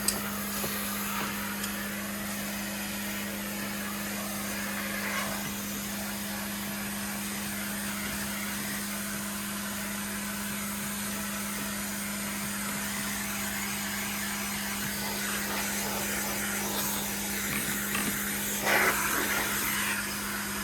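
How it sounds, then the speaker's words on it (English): A vacuum cleaner runs steadily on a Whirlpool refrigerator's grate, a constant loud drone with a strong hum, holding nearly unchanged for about twenty seconds with slight shifts as the nozzle moves. "Another thing that you might consider doing, like we are, is vacuuming the grate"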